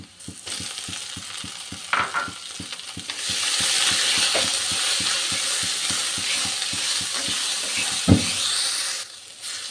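Leafy greens with chopped onion and slit green chillies frying in a pan, a steady close sizzle carrying a regular rhythm of spatula scrapes and stirs, with a few louder clanks against the pan.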